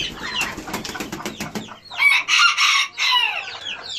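A serama rooster crows loudly and clucks close by, with a series of sharp wing flaps or scratches at the start before repeated bursts of crowing and agitated calls.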